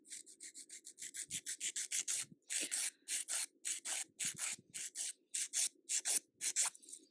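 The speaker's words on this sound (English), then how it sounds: "I always start at the cuticle and the sides when I start filing my nails" A hand file works over gel nails at the cuticle and sides in quick, even back-and-forth strokes. The close, dry rasping repeats steadily with brief pauses between passes.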